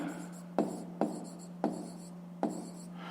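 Pen writing on paper during a fifth-grade maths exercise, four distinct short bursts of scratchy strokes, each starting with a tap and trailing off, close and fairly quiet over a faint steady hum.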